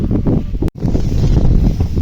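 Strong wind buffets the microphone in loud, rumbling gusts, with a brief dropout midway, close and continuous.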